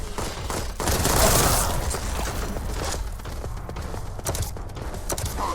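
Rapid bursts of gunfire crackle continuously amid a busy, noisy video game battle soundscape, with sharp shots standing out now and then.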